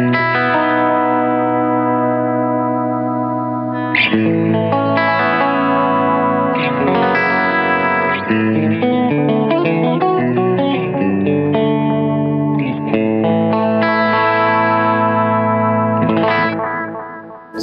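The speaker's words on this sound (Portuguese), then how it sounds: "É óbvio que você pode exagerar isso e deixar um som bastante experimental" Seymour Duncan Vapor Trail analog delay pedal pushed to an experimental setting: sustained, heavily processed guitar chords with warbling chorus-like modulation and distortion, changing every few seconds in a loud, continuous wash with no talking.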